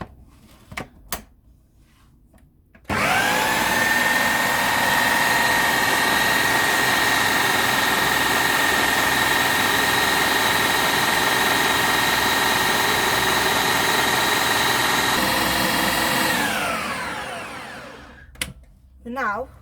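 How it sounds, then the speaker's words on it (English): A food processor grinds chickpeas, salt and garlic into falafel mix, running as a loud, steady motor whir for about fourteen seconds before winding down, with light handling clatter just before and after. "I'm now going to grind everything together."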